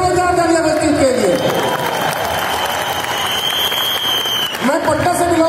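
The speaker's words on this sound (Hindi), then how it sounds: "जोरदार तालियां वेस्टीज के लिए।" Loud sustained applause fills an indoor stadium crowd at a Vestige network marketing award function, broad and dense from start to finish, with a voice speaking over the clapping near the beginning and again at the end.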